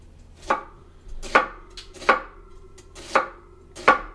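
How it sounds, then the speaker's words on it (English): A knife chops inner celery stalks finely on a cutting board, giving six crisp, evenly spaced knocks close by against a quiet background, with no talk. "We'll just chop up nice and fine."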